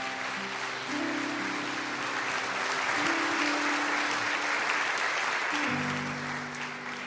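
A church congregation applauds steadily for several seconds, a dense wash of clapping with sustained organ or keyboard chords underneath.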